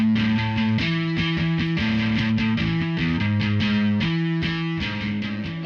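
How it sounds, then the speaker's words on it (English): A big distorted electric guitar strums chords in a steady rhythm, thick and loud, with a layered sustained tone and no voices. "we have a big distorted strummed guitar pattern that goes over the top at the end"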